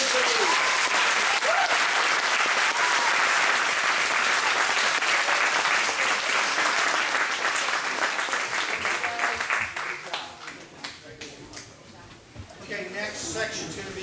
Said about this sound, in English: bow to the audience and give them a round of applause